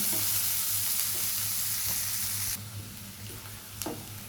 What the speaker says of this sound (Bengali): এখানে আমি দুইটা পেঁয়াজ কুচি করে রেখেছিলাম এবার আমি পেঁয়াজগুলোকে একটু ভেজে নেব